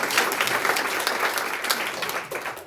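Comedy club audience at a stand-up showcase clapping, a lively burst of many hands with individual claps standing out, strong at first and tapering off near the end.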